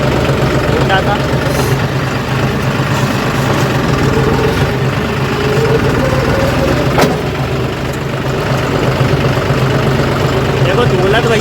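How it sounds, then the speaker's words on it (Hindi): A tractor engine runs steadily during a rice harvest, with a loud, continuous low drone and a few knocks and rattles as it moves along. "दौलत भैया तो पूरा ही ट्रैक्टर भगा रहे हैं।"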